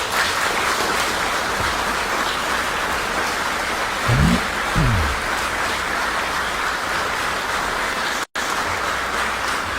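A crowd at an outdoor gathering with the Pauline fathers applauds, giving dense, sustained clapping like heavy rain that holds steady and continues to the end.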